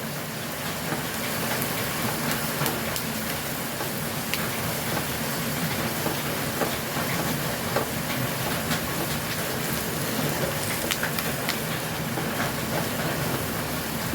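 Chilli, garlic, shallots and country curry leaves being stirred in a hot pan, a dense, even frying hiss that runs unbroken for the whole stretch, with faint scattered crackles.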